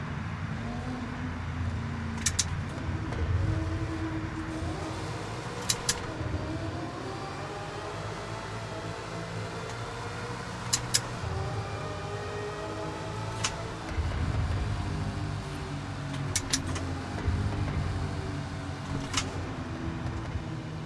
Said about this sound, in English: Nice engine noises in the tunnel there